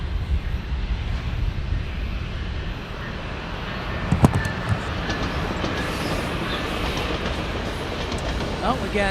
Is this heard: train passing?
yes